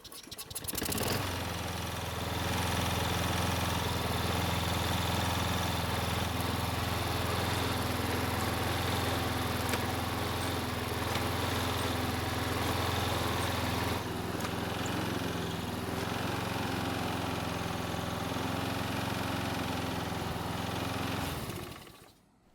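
A lawn mower engine starts after repair work and runs at a steady, loud, close drone for about twenty seconds, shifting slightly partway through before cutting off abruptly at the end, with no voices.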